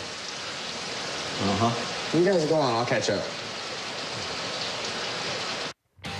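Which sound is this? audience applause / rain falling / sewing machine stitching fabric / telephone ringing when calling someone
rain falling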